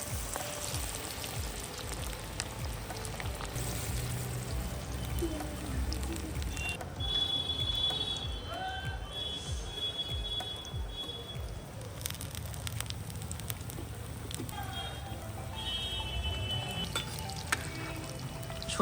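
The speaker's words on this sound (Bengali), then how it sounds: "এবারে পেঁয়াজগুলো ভেজে নেব" Onions frying in well-heated oil, giving a continuous soft crackling sizzle that stays fairly quiet and even throughout, with a few faint clinks over it.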